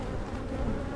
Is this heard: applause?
no